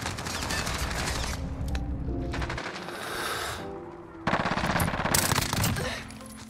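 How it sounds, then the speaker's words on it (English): Heavy rifle fire in the Modern Warfare video game, including a Barrett .50 cal sniper rifle, as loud rattling bursts of shots at close range broken by brief quieter gaps and mechanical clatter. "I got a hit marker with a Barrett 50 cal."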